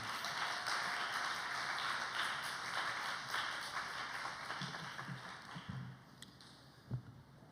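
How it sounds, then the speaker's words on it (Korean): A church congregation applauds during a Sunday service, a dense wash of clapping that fills the room and gradually thins, leaving a few scattered claps and taps at the end. "오늘 목사님이 나오실 때 더 우리와 같은 박수로 맞이했으면 좋겠습니다"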